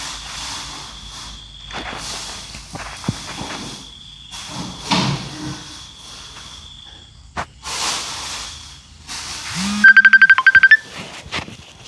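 Phone call ringing tone over a weak mobile internet connection, a repeated electronic ring pattern near the end after scattered faint clicks and bumps in a quiet room.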